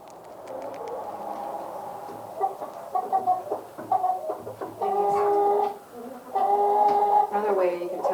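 Hens in a coop with egg-laying boxes, woken by a light, cluck and squawk in agitated, overlapping bursts that grow louder toward the end, with a person talking quietly among them.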